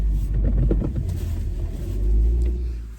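A car engine is heard from inside the cabin while the car is driven to warm it up. It makes a deep, steady rumble with a rising swell of engine drone about two-thirds of the way through.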